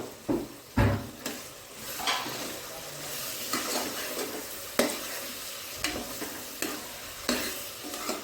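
Chutney frying in hot oil in a pan gives a soft, steady sizzle, broken by repeated scraping and clinking strokes of a spoon stirring through it.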